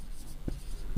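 Marker or chalk writing on a classroom board during a Class 7 mensuration lesson, with two short scratchy strokes standing out over a steady room hum.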